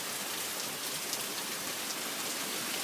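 Steady rain pours down during Hurricane Irene, a continuous broadband hiss of drops on surfaces, even and unbroken, moderately faint with no voices.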